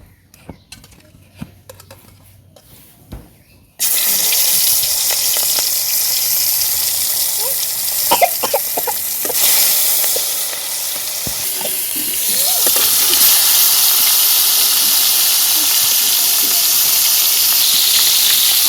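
Fish rubbed with salt, turmeric and chili lands in hot oil in a wok, setting off a loud, steady sizzle and hiss that holds for the rest of the clip after a brief quiet start with talk.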